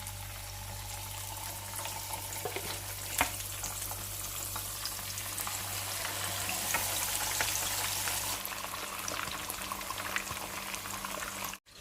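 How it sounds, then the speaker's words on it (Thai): Loud, steady sizzling and crackling of fish frying in hot oil for Arabic-style fried fish, close up, with a few sharp pops and no voices. "ตอนนี้เราก็จะนำปลาลงทอดเนาะ"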